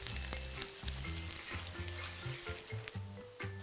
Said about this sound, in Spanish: es momento de incorporar las lentejas y al mismo tiempo el puré de jitomate